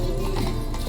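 Roach, a horse in The Witcher 3, clops its hooves steadily in a short burst with a brief whinny-like tone, close and moderately loud over a busy game background.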